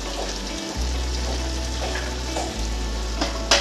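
Ground chili and cumin with bay leaf fry in oil for a Bengali chicken curry, a constant close sizzle with occasional stirring scrapes, over a low steady hum.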